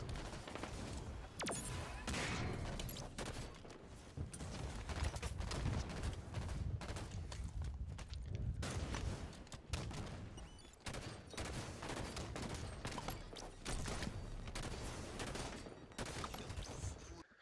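Gunfire from a grenade launcher in an online shooter match, dense continuous bursts of shots and blasts running through the whole stretch at steady loudness, with no talk over it.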